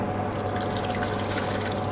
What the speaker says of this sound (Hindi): ऐड करेंगे राइस,